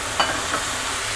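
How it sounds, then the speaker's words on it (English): Port wine mixture hitting a hot pan to deglaze it, a brief loud sizzling burst with a couple of spattering flares, then a steady hiss, no voices. "And now we're going to deglaze the pan with our port wine mixture"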